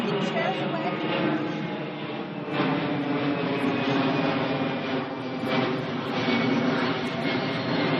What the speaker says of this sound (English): Do it according to the airplane noise.